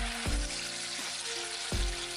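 Chana dal batter spooned into hot oil, loud steady sizzling and bubbling frying, with two sharp low thumps as portions drop into the pan.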